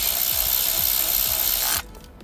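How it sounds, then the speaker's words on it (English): A ratchet wrench clicks rapidly and evenly while a bolt is driven in on a Mercedes camshaft position sensor, close and loud over a bright hiss, then cuts off abruptly near the end. "we install the bolt"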